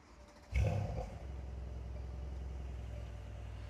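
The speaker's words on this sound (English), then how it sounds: "I'll turn it on in comfort first with the valves closed" A Mercedes C63 S Cabriolet V8 starts up in comfort mode with its exhaust valves closed, a sharp bark at ignition settling into a steady, muffled low rumble at idle.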